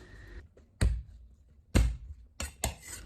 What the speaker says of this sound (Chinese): 大蒜用刀拍匀，拍匀即可，不用剁碎